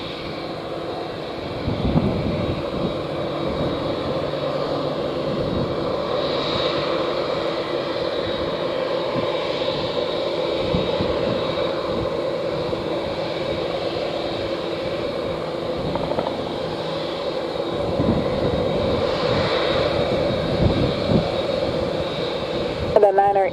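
A large airliner's jet engines rumble and whine steadily at Montego Bay airport in Jamaica as an Air Canada heavy jet waits for takeoff, a continuous distant roar with faint radio chatter underneath.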